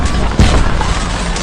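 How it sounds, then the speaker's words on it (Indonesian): A military base explodes in an action film: a loud, dense roar of blast noise with a heavy low thump near the start, rumbling on without a break. "Namun di belakang sana tiba-tiba saja markas militer meledak."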